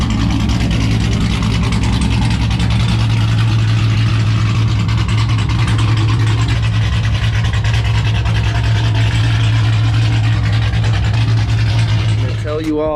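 A modded 2006 Chrysler 300 SRT8 idles with an aggressive cam, its deep, loud engine rumble close and constant for about twelve seconds before cutting off abruptly at the end.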